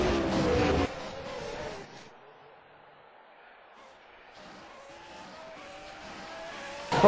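Race cars on a formation lap at Bahrain. Engine noise fades from loud to a quiet lull, then builds again, and a commentator talks over it.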